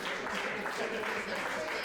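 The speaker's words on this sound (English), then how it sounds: "Clap it up for these 3 players that are still in this, right? Give it up for them." A live comedy game show audience claps for the remaining players, giving dense, steady applause that fills the whole moment evenly with no clear break.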